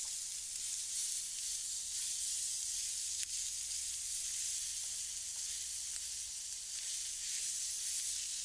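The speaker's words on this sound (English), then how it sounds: "Now you're going to cook it up. You're going to brown it." Sausage browns in a skillet, giving a steady, even sizzle and hiss that holds at one level throughout, close up, with no talking over it.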